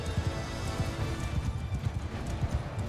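Horse hooves galloping in the video game Mount & Blade II Bannerlord, a fast, continuous drumming of thuds close by amid battle noise, with no clear talk.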